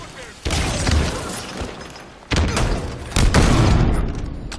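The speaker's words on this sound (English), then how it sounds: "Why are you just chucking grenades at me" Grenades go off in a multiplayer shooter game: three sudden heavy blasts spread a second or so apart, each one loud and close and fading into rumbling noise, with a player talking over the action.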